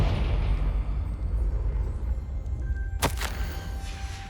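A Confringo blasting spell in Hogwarts Legacy bursts with a sharp crack and brief flare near the end, following a low rumbling bed of game ambience.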